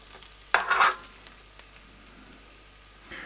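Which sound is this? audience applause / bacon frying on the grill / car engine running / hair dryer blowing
bacon frying on the grill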